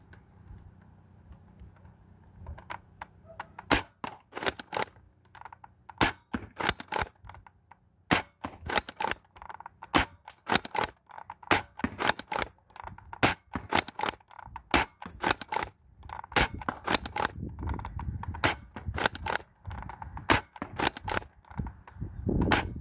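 An upgraded Dart Zone Nexus Pro X blaster fires darts rapidly, with sharp, loud, close snapping shots in quick irregular bursts and a brief faint chirp at the start. No one talks.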